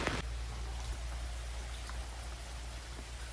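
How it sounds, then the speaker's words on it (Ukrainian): Heavy rain pouring down in a constant, dense hiss with low rumble underneath, steady and close throughout with no voices. "як дощ їбашить"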